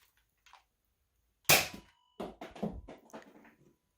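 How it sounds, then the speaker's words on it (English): A Nerf shotgun pistol firing Elite darts during a chronograph test gives one sharp, loud snap with a faint metallic ring, then a cluster of clattering mechanical clicks and rattles as it is handled. "Chronograph test for the shotgun."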